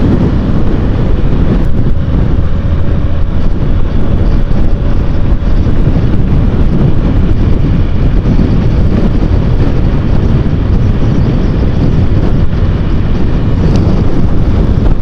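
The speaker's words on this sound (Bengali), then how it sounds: "প্রচন্ড বাতাস, প্রচন্ড বাতাস, বাইক একদম নাড়াই ফেলতেছে" Strong wind roars continuously into the microphone of a motorbike crossing Padma Bridge in Bangladesh, a loud, dense, unbroken rush with engine rumble underneath.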